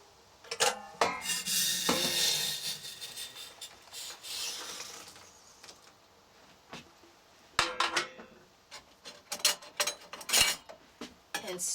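A spoon scrapes and rubs inside an insulated container while stirring Idahoan instant mashed potatoes into boiling water at a camp stove, first with a long grinding swirl and then with sharp, intermittent clinks and taps.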